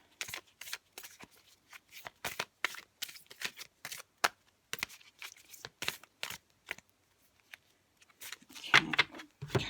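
Oracle cards are handled and shuffled in a quiet room, giving quick bursts of papery riffling and flicking in an irregular rhythm, close and crisp, with a denser shuffle near the end.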